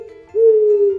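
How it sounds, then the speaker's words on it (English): An owl gives a single steady hoot, a sustained tonal call lasting under a second, clear and fairly close with no other sounds around it. "O for owl."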